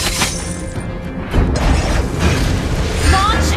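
A dense crash and rumble as a turret is destroyed in Mobile Legends, loud and continuous over busy game sounds, with an announcer-like voice over it.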